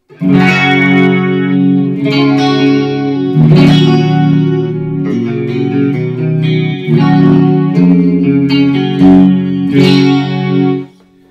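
Guitar played through heavy effects from a Line 6 Firehawk acting as a PA system and picked up by a microphone, with chorus, distortion and reverb-soaked chords ringing steadily and loudly for the whole stretch, with no talking.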